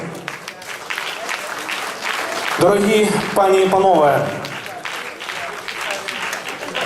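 Someone speaks in Ukrainian over a crowd at the Carpathian Cup 2013, then a burst of clapping swells through the room and continues under his voice.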